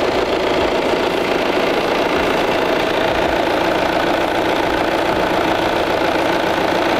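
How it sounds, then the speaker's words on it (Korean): A second-generation Volvo S60 D3 diesel engine idles in an open engine bay, heard up close as a loud, steady, even hum and rattle with no pauses and no one talking. "엔진 소리 일정하네요"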